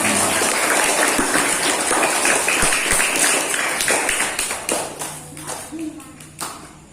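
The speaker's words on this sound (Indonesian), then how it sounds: "Tepuk tangan lagi untuk Nabi Muhammad." A group of children claps hands together in a dense burst of applause that tapers off into scattered claps and a few voices.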